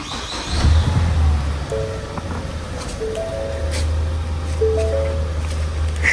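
A Ford Fusion Titanium starting up, a brief crank catching into a low steady idle that continues at moderate volume, with faint rustling nearby.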